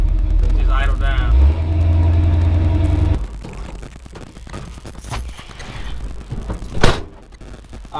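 A 1983 Chevrolet C10 pickup's engine rumbles loudly close by and then drops off as it idles down, leaving quieter clunks and knocks.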